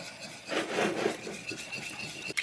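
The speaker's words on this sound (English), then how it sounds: "we're just going to whisk that" A whisk beating homemade salad dressing in a large bowl gives a brief, close rubbing and scraping swish that swells and fades over a couple of seconds, with no voices.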